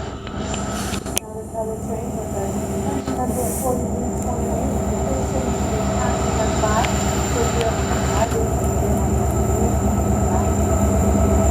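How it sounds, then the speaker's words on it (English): An Alaska Railroad train rolls slowly past up close, with a heavy continuous rumble, rhythmic wheel clatter and occasional metallic squeals. Faint voices are heard underneath. "we meet another train that is slowly going to pass us"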